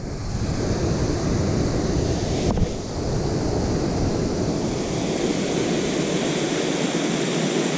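Rushing water from a small waterfall at a trout fishing spot, a steady broad roar that continues throughout with wind buffeting the microphone.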